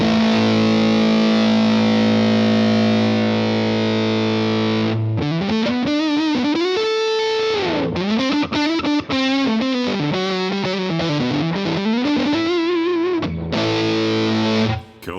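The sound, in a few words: electric guitar through a fuzz pedal in Guitar Rig 6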